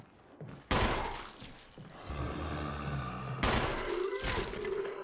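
Gunfire in Resident Evil Remake, two sharp loud shots spaced apart, each followed by lingering rumble and echoing game sound between them.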